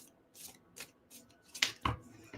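Tarot cards are shuffled by hand in a quick, soft series of riffles and taps, close and fairly quiet, with a couple of sharper snaps near the end.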